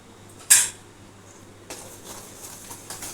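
A spoon works semolina mango cake batter with milk and baking powder in a bowl: one sharp metallic clink, then softer repeated scraping and tapping against the bowl, close and fairly quiet.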